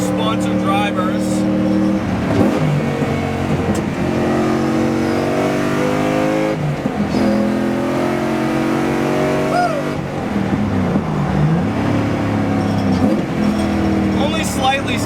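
A 450 hp 1UZ V8 Lexus IS300 drift car roars on the street, its engine rising and falling through repeated revving sweeps, loud and close, while people talk over it.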